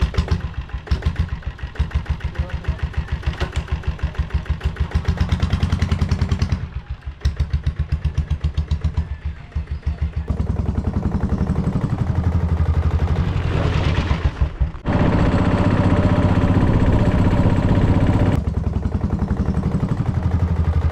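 Motorbike engine idling with a rapid clattering putter, then revving and pulling away as the rider sets off; the throb stays close and fairly loud, with a few brief drops.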